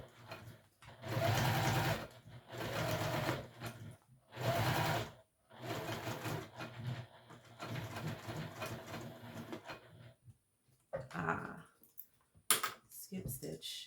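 A sewing machine stitches a fabric wristlet in bursts, with pauses between runs of stitching and a voice talking over parts of it.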